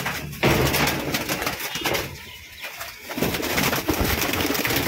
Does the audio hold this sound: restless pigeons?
yes